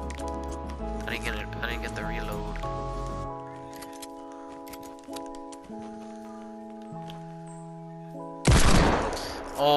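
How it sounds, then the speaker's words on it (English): Gunfire in a 20v20 mode of Overwatch: a sudden loud, dense burst of shots breaks in near the end, after sustained electronic game music and scattered faint effects. "Do you hear shots? I hear shots."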